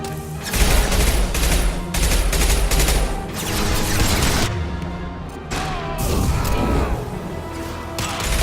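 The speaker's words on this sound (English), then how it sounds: "Firing a high-impact shot." Heavy gunfire from a Mass Effect 2 battle: loud, dense bursts of shots and impacts crash continuously at close range, with brief gaps between volleys.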